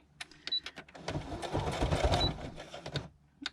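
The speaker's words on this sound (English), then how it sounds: "I'm going to just stitch the two sides together to make like an L-shaped pocket." A sewing machine stitches the two sides of a fabric notebook cover pocket together, a close, steady mechanical whir lasting about two seconds, framed by scattered clicks and handling taps.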